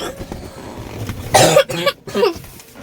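A few harsh coughs in a short burst, close and fairly loud, with quieter rustling and background noise before them.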